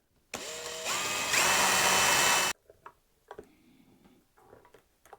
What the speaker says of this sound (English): Let's get this on and get it drilled.